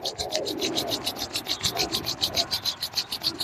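Two palms rubbing briskly together during a yoga practice, making rapid, even swishes about five or six times a second that carry on continuously and close up, with no talking.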